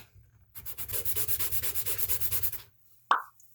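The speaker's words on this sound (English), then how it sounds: "So I just took my sanding stick" Sanding stick rubbed rapidly back and forth over a plastic model part, about fifteen quick, even scratchy strokes close up, then a pause and a single short tap.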